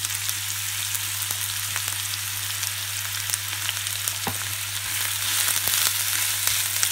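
Onion frying in oil in a wok, a steady soft sizzle with a constant low hum underneath and occasional faint ticks, with no talking.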